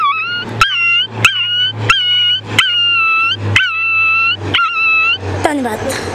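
A sixth-grade boy imitates a dog with his voice, giving about eight evenly spaced, loud, close whining yelps that end in a rougher bark-like cry.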